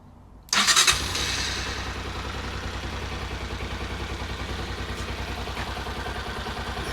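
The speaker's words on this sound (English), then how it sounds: "Let's fire it up and see if it starts." A small motorcycle engine, already warm, cranks and catches at once, then settles into a steady, even, close idle that keeps running with no voices present.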